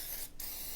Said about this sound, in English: butter spray.